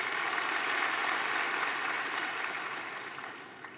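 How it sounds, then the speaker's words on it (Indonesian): A crowd claps hard and continuously at an online church service, the dense applause holding steady before gradually tapering off toward the end. "Tepuk tangan yang keras"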